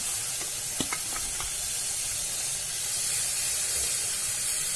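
Fresh spinach going into dal in a pressure cooker and being stirred, giving a steady close hiss and rustle with a few faint clicks of a spoon throughout.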